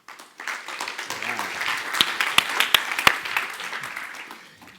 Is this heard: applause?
yes